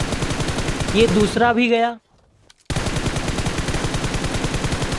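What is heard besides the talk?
M416 gunfire in the video game BGMI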